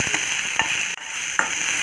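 Drumstick leaves and onion sauté in a hot pan, a steady hiss of frying with a few soft scraping stirs of the spatula spaced through the short stretch.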